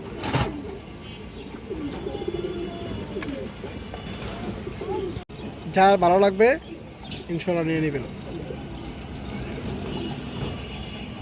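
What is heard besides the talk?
pigeons cooing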